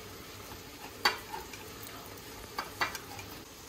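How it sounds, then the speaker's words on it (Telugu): A paste being mashed with salt in a bowl, giving a few faint, separate scraping taps and clicks over a low, quiet background, with no talking. "పేస్ట్, సాల్ట్ వేసుకుని బాగా మ్యాష్ చేస్తున్నానండి"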